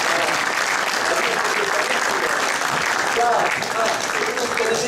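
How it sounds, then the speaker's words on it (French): A theatre audience at a charity talent show finale applauding loudly, a thick continuous wash of many hands clapping at steady intensity throughout, with faint voices mixed in. "Alors, on les applaudit très fort"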